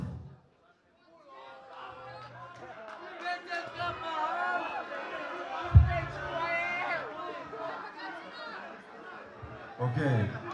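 Crowd noise at an underground hip-hop album launch concert: a mass of cheering and shouting voices that swells and holds, with low thumps of the sound system breaking in at moments.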